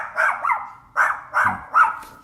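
A dog barks five times in quick, uneven succession, the sharp, fairly close yaps standing alone with no talking in between.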